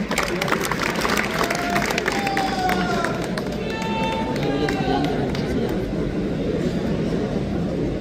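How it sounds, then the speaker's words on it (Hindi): An audience at a union meeting breaks into dense, sustained clapping that fills the hall, steady and loud throughout, while a voice carries on over the applause. "इसकी भी ताली बजाए, ये आपके लिए बेहतर है।"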